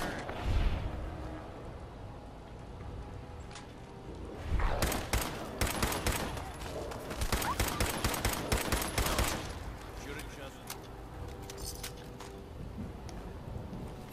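Gunfire from a .308 rifle in modded Fallout 4, heard as a cluster of loud, sharp shots with a dense burst in the middle, close, with quieter noise between the shots.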